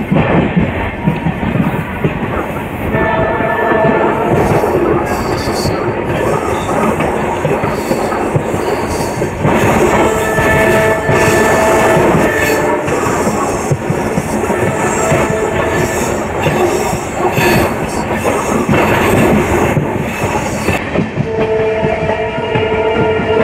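The Rameswaram–Tambaram Pamban Express rolls onto Pamban Bridge, heard loud and close from an open window as a continuous rumble with rhythmic clickety-clack of wheels, some squealing and a brief horn.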